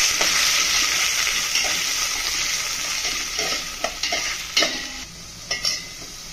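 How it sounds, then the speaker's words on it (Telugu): Chopped onions and green chillies fry in a pan, browning to golden, with a steady loud sizzle and hiss broken by sharper scraping stirs toward the end. "ఇది కొంచెం గోల్డెన్ బ్రౌన్ వచ్చేదాకా ఆనియన్స్ని ఫ్రై చేసుకున్నాను."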